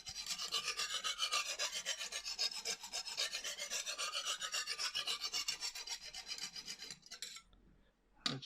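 A knife blade drawn over a Lansky sharpening stone at a 25-degree angle makes rapid, rhythmic rasping strokes, about fourteen close scrapes in a row, then a pause and a final stroke, with no talk.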